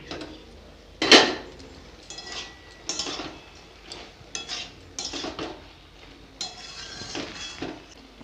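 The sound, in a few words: pot lid being removed to check the curry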